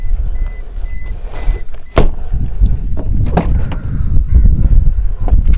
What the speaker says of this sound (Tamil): ஸோ ரியர் டோர்ஸுமே நான் ஓப்பன் பண்ணிட்டேன்.